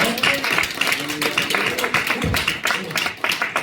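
A church congregation claps together during a Sunday service, steady dense applause filling the room at close range for a few seconds, with a voice faintly underneath.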